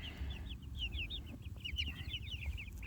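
Meat chickens cluck in a quiet, close flock, with soft repeated clucks and chirps layered over a low background rumble and no speech.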